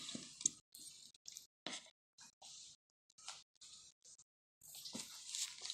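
Cola from a pre-measured container is poured into a pan, giving quiet, uneven bursts of splashing and fizzing trickle separated by short silences, then a longer final stretch.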